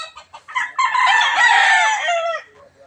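Rooster on a farm with stags and other chickens, a few short clucks leading into one loud, close, drawn-out crow lasting about two seconds, followed by a couple of soft clucks.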